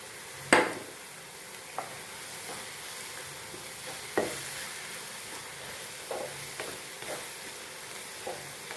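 Crushed ginger, garlic, green chilli and curry leaves hit hot oil in a pan with a sharp burst of sizzle, followed by a steady fry punctuated by a few spoon clinks and stirring scrapes.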